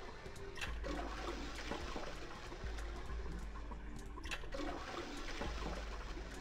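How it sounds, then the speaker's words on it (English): A toilet flushes in the video game Zero Escape: 999, a steady rushing and gurgling wash of water that runs continuously and fairly softly. "Heard a loud flushing noise."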